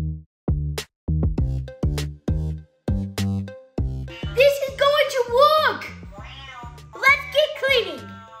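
A small toy robot plays a run of short electronic beeps, then two drawn-out synthetic meows, loud and close.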